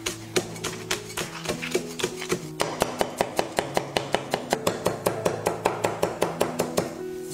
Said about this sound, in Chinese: 韭菜切长段， 泡椒、泡姜切小粒粒